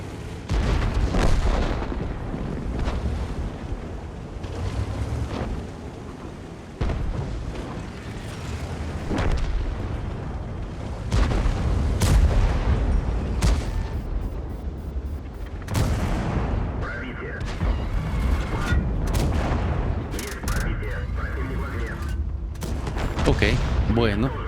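Tank cannon shots in World of Tanks boom repeatedly as loud, heavy blasts spread irregularly across the stretch, mixed with game rumble and someone talking in between.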